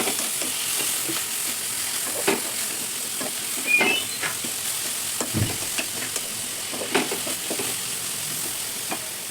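Mint and coriander leaves sauté in a hot pan, a soft continuous sizzle broken by scraping stirs and occasional clinks, close and fairly quiet with no talking.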